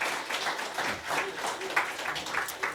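A church congregation at a Sunday service claps together in a soft, diffuse round of applause that runs steadily throughout, heard from some distance.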